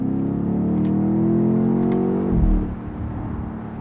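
Stock BMW X5M with stock downpipes and a Valvetronic Designs full exhaust, loud and close, with a steady rumbling drone that rises, then breaks off sharply into a burst of crackling pops as the revs fall.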